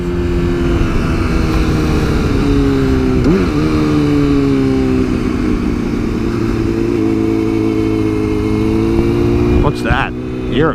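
A motorcycle engine holds a steady, loud drone as the rider wheelies up a steep hill on a narrow road, pitch sliding gently with throttle changes, with wind rumble and a brief louder burst near the end.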